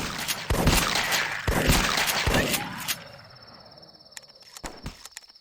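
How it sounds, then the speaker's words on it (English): A Colt .45 automatic pistol fires a few sharp shots in The Last Stand, a zombie survival game, then a high electronic tone and scattered clicks follow after the shooting stops. "45 automatic Colt pistol"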